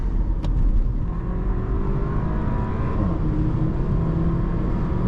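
A 2017 Porsche Macan 2.0 T with a 303 hp EA888 third-generation engine accelerates hard on the Autobahn. Its loud, close engine drone builds steadily over a deep rumble of road and wind noise.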